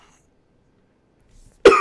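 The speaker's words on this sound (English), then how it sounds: "I knew I was going to cough." A single sharp cough close to the microphone after a near-silent pause, preceded by a faint throat sound.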